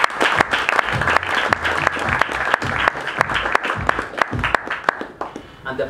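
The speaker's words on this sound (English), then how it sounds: "So a round of applause for" Dense clapping from an audience at the West Rift Aviation end-of-year award ceremony, loud and sustained before tapering off at the end.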